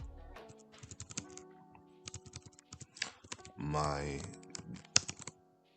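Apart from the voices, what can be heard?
typing on a computer keyboard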